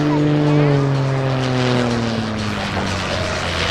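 A propeller aerobatic airplane roars past at a military air show, loud and close with a falling engine pitch as it passes, the drone then easing slightly as it moves away, with a voice under it.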